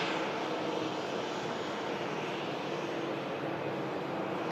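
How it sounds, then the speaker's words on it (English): A fixed-wing aircraft approaching Manchester Airport to land, heard as a steady, broad engine roar that holds at a constant level throughout, with no voices. "there is an approaching aircraft as well"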